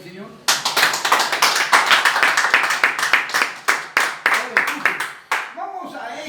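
Church congregation clapping for the Lord in a steady, rapid rhythm, a dense run of sharp hand claps that slows into a few scattered final claps.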